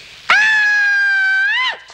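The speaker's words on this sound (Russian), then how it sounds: "Кричать буду." A woman in a 1982 Soviet crime drama lets out one loud, sustained high-pitched scream lasting over a second, close and clear, that bends at the end and breaks off abruptly.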